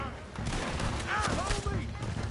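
Gunfire in the video game Red Dead Redemption 2: a short burst of several sharp shots mixed with game sounds and other noise, fairly loud, with some voice activity around it.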